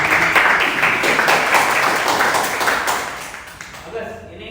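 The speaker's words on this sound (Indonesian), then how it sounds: "tepuk tangan untuk kelompok 4 dong" A classroom group claps for a presenting student team, a dense burst of many hands that starts loud and close and then tapers off, with voices mixed in.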